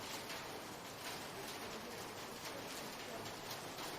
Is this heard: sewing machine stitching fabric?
no